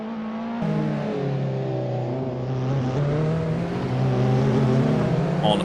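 A touring race car in a racing video game accelerates under throttle, its engine note climbing steadily with a gear change and then rising again, loud and continuous with no voices.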